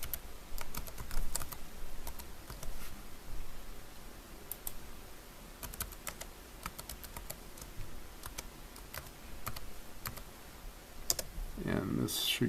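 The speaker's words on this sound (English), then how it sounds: "we have to put in our administrator password" Administrator password typed on a computer keyboard, rapid irregular key clicks in bursts across the stretch, close and clear, with someone talking over the typing.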